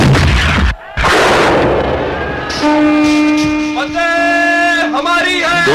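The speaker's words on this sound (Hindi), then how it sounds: "तोपें चलाओ।" Battlefield cannons boom out in a loud, close volley, with a deep blast followed by rolling rumble and sustained horn-like tones amid a battle scene at Vijayanagar.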